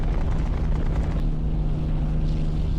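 Aircraft engines in the naval combat game War on the Sea, a dense, continuous low drone with a steady hum, loud and unbroken throughout, with no speech over it.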